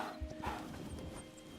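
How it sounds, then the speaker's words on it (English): Horse in the survival video game Hytale, with soft clip-clop hoof steps wandering close by over a low ambient background, no talking. "And now another horse has wandered up."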